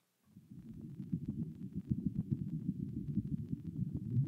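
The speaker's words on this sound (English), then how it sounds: "This is it, guys. This is what Mars sounds like." Recorded sound of Mars, a low rumbling, throbbing wind-like drone with pulsing beats, starting from silence and building steadily to a moderate level.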